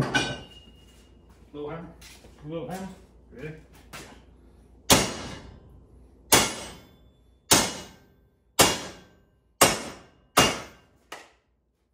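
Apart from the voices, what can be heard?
hammering to flatten a metal brace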